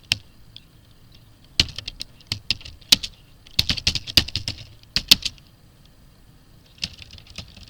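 Clicks of a computer keyboard as someone types, scattered single taps and short bursts of keystrokes, close and fairly crisp, with quiet gaps between them.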